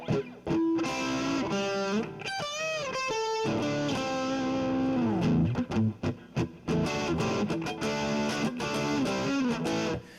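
A distorted electric guitar plays a solo, with quick bends, slides and choppy staccato stabs in a gritty, sustained tone, played solo without any voices.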